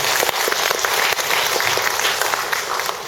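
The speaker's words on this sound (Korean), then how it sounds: "큰 박수 부탁드립니다." An audience at a Buddhist talk-show concert gives loud, sustained applause, with dense clapping filling the hall from start to finish.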